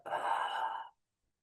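Ujjayi breath drawn through a slightly constricted throat during a somatic practice, a soft continuous hissing exhale lasting under a second, close and fairly quiet, then silence.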